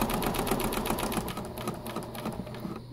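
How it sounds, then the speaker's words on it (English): A sewing machine stitching a tote bag, a rapid even mechanical whir and chatter of the needle running continuously up close. "So I got my presser foot down. Got the edge lined up. Let's sew."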